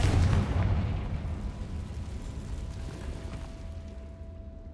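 Blasting spell cast in the video game Hogwarts Legacy: a loud booming burst at the start that rolls off into a long, fading low rumble, with no other sounds on top.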